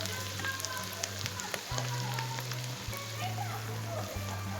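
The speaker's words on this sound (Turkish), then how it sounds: "Bu şekilde salçalarımız da kavruldu." Tomato paste fries and sizzles in a pan for ekşili köfte, a steady close crackle with faint stirring clicks, running beneath a low hum.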